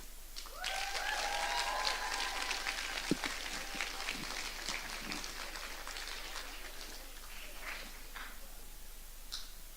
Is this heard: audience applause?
yes